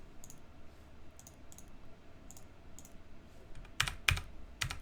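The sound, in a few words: computer keyboard typing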